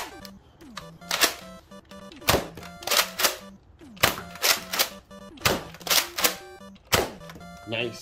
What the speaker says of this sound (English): I'm gonna load up some darts, fire it off, make sure it works.